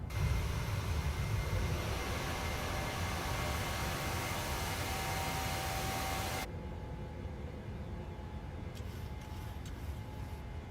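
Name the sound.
PMDG 737 airliner engines climbing after takeoff, from Microsoft Flight Simulator 2020 video game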